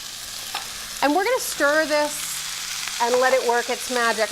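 Diced celery, carrots and baby bella mushrooms sizzle in a pan under a steady hiss while a person talks over the cooking.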